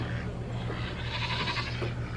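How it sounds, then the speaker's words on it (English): Goats bleat insistently for their grain at feeding time on a small farm, a few overlapping calls rising above a steady low hum, fairly close and loud. "I'm gonna feed my goats because they're yelling at me"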